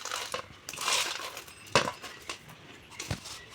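Garlic and spices being pounded by hand for village-style curry leaf powder: several uneven dull thuds and gritty crushing knocks, close and moderately loud, with no talk.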